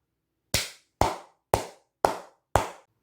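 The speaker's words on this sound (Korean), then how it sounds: "생일 축하한다는 의미에서 크게 박수 한번 치고 가도록 하겠습니다" Five sharp, close hand claps ring out alone at an even, steady pace, each with a quick fade, offered as a birthday salute to Samsung Electronics.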